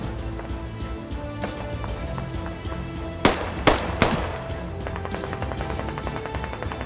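Gunfire in the video game Squad, three sharp loud shots in quick succession over a steady background rumble, with faint rapid distant firing afterward.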